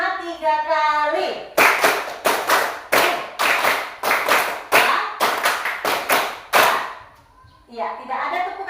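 A primary school class claps hands together in a counted rhythm, sharp crisp claps in quick groups separated by short pauses, with a teacher's voice speaking before and after.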